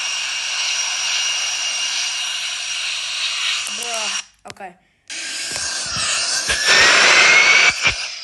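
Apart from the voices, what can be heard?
jet engine of airliner at full power in flight simulator video game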